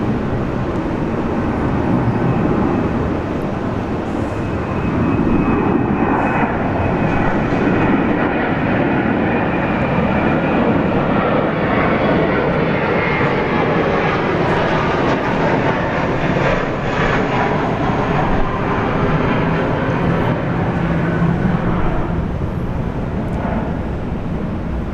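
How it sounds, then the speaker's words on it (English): Airbus A321 jet passing overhead on approach to Sydney Airport, a loud, steady broadband engine roar that holds for the whole stretch without fading. "A321 coming on over the top"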